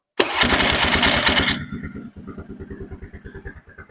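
A used ATV with a recently cleaned and rebuilt carburetor starts without choke. A loud burst of engine noise settles into a rhythmic, loping idle that carries on steadily up close.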